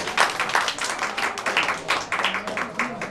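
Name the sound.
applause for the highest-scoring quiz group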